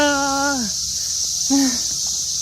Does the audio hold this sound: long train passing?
no